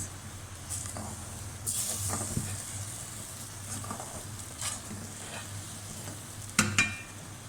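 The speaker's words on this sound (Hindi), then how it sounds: "अब इसको हम जो है चलाते रहेंगे चम्मच, ताकि कहीं पे हमारा आटा जो है जमे नहीं" A spoon stirs chicken nihari thickened with flour in a pot, giving a low continuous simmering hiss with occasional scraping strokes and a couple of sharper clinks near the end.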